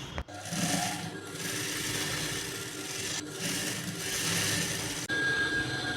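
Sewing machine stitching a blouse sleeve, a steady whirring run of stitches broken by brief stops and restarts, close and moderately loud with no talking.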